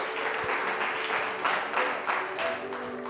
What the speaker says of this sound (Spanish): Pero fuerte el aplauso a la gloria de Dios